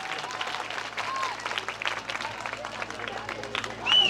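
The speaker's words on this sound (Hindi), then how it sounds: "आप सभी लोग फीता कटते ही जोरदार तालियों से स्वागत करेंगे।" Applause at a ribbon cutting at a lucky draw event: a crowd claps continuously and briskly at moderate volume, swelling slightly at the end, with voices and chatter mixed in.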